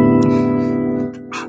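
Freshly tuned guitar strings ring out together in a sustained, steady chord that slowly decays, with a brief soft strum near the end; no talking.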